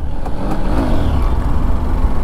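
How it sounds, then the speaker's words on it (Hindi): A motorcycle engine pulls steadily at low speed in fifth gear, a continuous close, loud engine drone with a rough low rumble and no talking. "25 की स्पीड में 5वें गियर में भी उठ जाती है बाइक"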